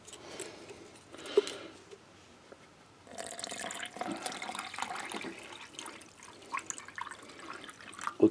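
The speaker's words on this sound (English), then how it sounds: "some water from a rolling boil, which is how I like my coffee, nice and hot" Water taken from a rolling boil is poured for coffee, a soft trickle that swells into a steadier splashing pour midway, faint and close, with no talking.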